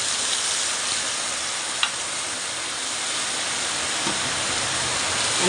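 Spice paste with tomatoes and mustard-poppy seed paste sizzles steadily in a frying pan, a close, even hiss with one faint utensil tap; no talking.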